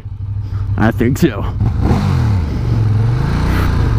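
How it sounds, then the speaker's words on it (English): A motorcycle engine idles with a low rumble and is briefly revved, the engine note rising under a rider's short spoken reply close to the microphone. "Should I rev my engine to be a jerk?"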